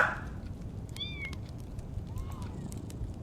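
A cat meows in a dog-and-cat horror video game, two or three short rising cries in the first half and a fainter one later, heard over steady game background noise.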